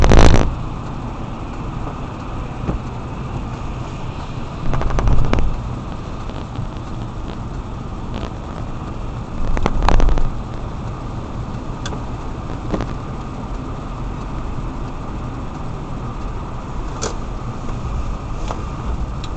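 Car tyres hiss and churn through slushy snow on a winding road, a steady wet rushing roar with occasional louder swells and splashes, heard from inside the vehicle.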